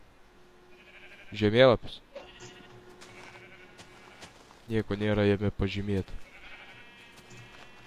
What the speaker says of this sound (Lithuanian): Oi, einam, apkirpsim avis.